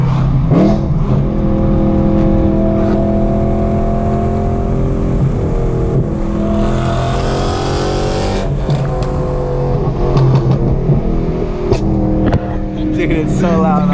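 BMW E92 M3 with a loud aftermarket exhaust pulling hard up a canyon road, its engine note rising steadily through the gears in a continuous roar from inside the cabin, with people talking and laughing over it.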